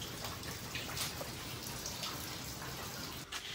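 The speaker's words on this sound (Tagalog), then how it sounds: "Buti na lang makulimlim, umuulan, ambon-ambon." Light drizzle falls outdoors on an overcast day in a garden, making a faint, steady patter of fine rain with no talking.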